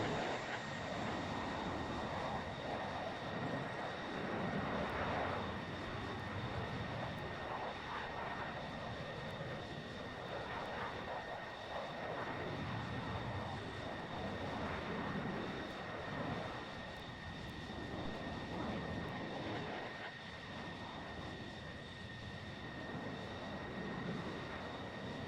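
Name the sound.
airplane taxiing to the runway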